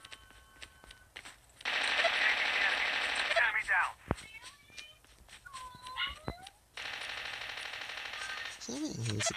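Turret machine gun fire in the Call of Duty battle royale game, sustained loud bursts from about 1.6 to 4 seconds, then a second long burst near the end, with other game sounds in between.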